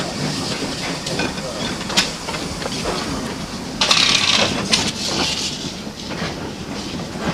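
A preserved steam locomotive running on a line in an area otherwise worked by electric trains, giving off a steady hiss of steam with louder bursts of venting and faint rail clatter, heard moderately close throughout.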